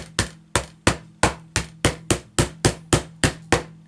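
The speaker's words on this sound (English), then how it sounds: "hammer that in place and make sure it doesn't get in my tea" A hammer taps a lid into place sharply about eleven times in a steady, even rhythm, each hit crisp and close with a short ringing decay.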